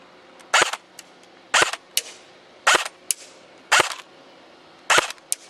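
An airsoft SIG 556 shorty rifle fires single shots outdoors, six sharp snapping cracks at irregular intervals, each followed by a faint echo or rattle from a target about 20 metres away.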